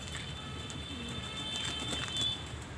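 Pigeons in a loft after bathing, giving low cooing calls over a steady background of rustling, fluttering and splashing movement, fairly close and continuous throughout.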